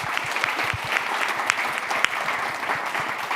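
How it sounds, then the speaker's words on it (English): A crowd at a university innovation competition event applauds a presenter, giving lively, dense clapping with a few sharper individual claps standing out near the front. "And a round of applause for Roy and his amazing work."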